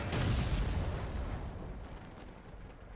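Tank cannon blast in World of Tanks, fired at a Centurion: one loud, heavy boom at the start that rolls on into a long rumbling decay, with no voices over it.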